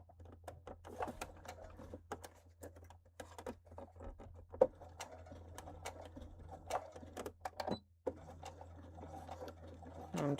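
A sewing machine stitches along a drawn line on fabric in quick bursts of rapid clattering needle strokes, broken by short pauses over a constant low motor hum, close and fairly quiet.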